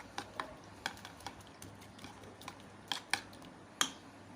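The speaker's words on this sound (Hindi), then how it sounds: "अब हम इन सब चीज़ों को अच्छी तरह से मिक्स कर लेंगे।" A spoon stirring and mixing egg paratha batter with crushed cumin: faint, scattered clinks and taps against the bowl over a soft, wet swishing, close up and without any talking.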